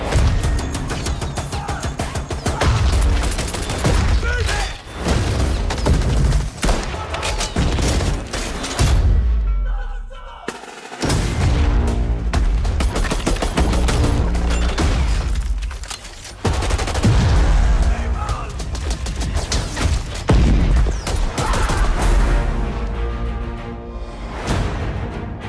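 Heavy gunfire and explosions in a Battlefield V trailer fill the scene with dense, loud bursts of automatic weapons and booms that roll on almost without a break. There is one brief drop-out midway before the barrage resumes.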